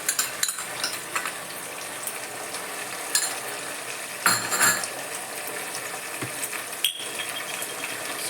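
Chicken pieces with ketchup sizzle steadily in a hot pan, with occasional sharper scrapes and clatters as they are stirred, close and without talk.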